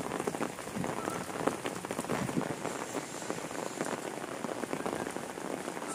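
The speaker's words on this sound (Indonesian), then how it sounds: "Lihat-lihat suasana hujan di sini di kampung gitu." Steady rain falls on a village, a dense, even hiss of drops striking surfaces nearby that continues without a break and with no voices.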